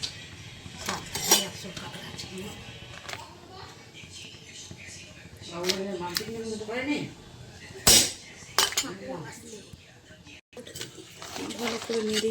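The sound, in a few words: stirring crabs in a cooking pot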